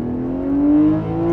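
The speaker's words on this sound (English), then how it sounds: "this is the N52 engine" Steady, loud drone of a BMW 128i's N52 inline-six engine while driving on a rainy day, its pitch climbing slowly as the engine revs, heard alone without talk.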